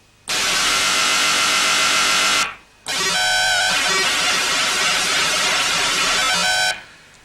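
Synthesizer noise oscillator producing random broadband noise in two loud, sustained bursts separated by a short gap, the second burst carrying a rougher, more textured character.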